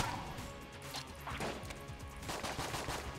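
Rapid enemy gunfire in Enter the Gungeon cracks out as a dense, steady stream of quick shots, fairly close and continuous throughout, mixed with other busy game effects.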